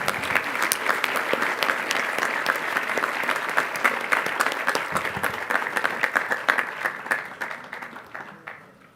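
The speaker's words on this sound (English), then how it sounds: "Let's have another round of applause for Mr. Lipari's advisory." A school audience at an eighth-grade class day applauds a teacher's advisory group, giving about nine seconds of sustained clapping with sharp individual claps that thins out and fades at the end.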